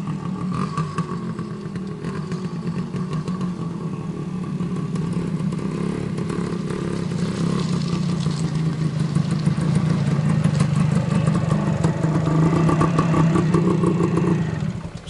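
A 1981 Suzuki TS185 motorcycle with its stock engine idling nearby, a steady, rattly two-stroke drone that thickens slightly as it runs, heard alone for fifteen seconds before cutting off abruptly.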